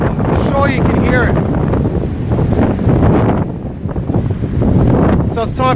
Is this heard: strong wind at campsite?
yes